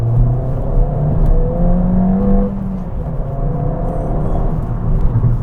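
A Ford Fiesta ST engine revs up and drops between gear shifts, with rising tones that climb, break off and climb again, loud and close from inside the car.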